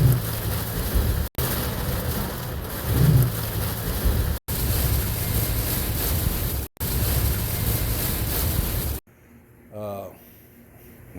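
Heavy rain pours in a thunderstorm as a dense, loud roar, with a low rumble of thunder partway through. The storm cuts off near the end, where a person is heard speaking.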